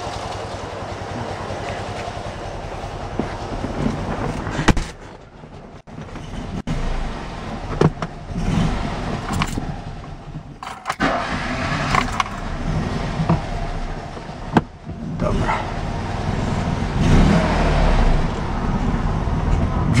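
A car on a test drive after its ignition timing and carburettor were adjusted: continuous engine and road rumble heard from inside, with occasional thumps and a couple of brief drops in level.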